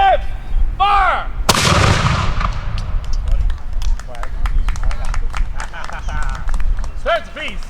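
A cannon fires during an Independence Day artillery drill, one loud booming blast with a long rumbling tail outdoors, with people talking and shouting before and after.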